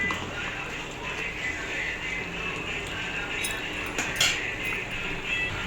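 A spoon stirs brinjal masala curry in a pan, a continuous sizzling hiss with a few sharp metallic clinks of utensil against pan.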